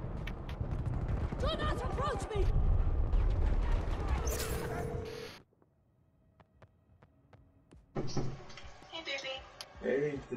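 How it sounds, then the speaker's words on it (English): A loud, booming orbital cannon explosion in GTA with heavy low rumble, followed by a sudden near-silence, then chaotic game noise with voices returning. "that's an orbital cannon"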